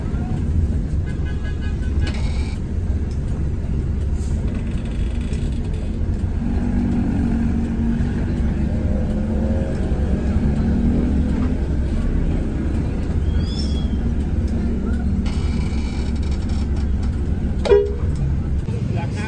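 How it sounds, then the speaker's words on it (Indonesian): Buses and street traffic at the Sumber Alam bus pool in Pondok Ungu, a steady low engine rumble with a brief horn toot and passing vehicles, voices faintly in the background. "Ada bis barunya Sumber Alam tuh."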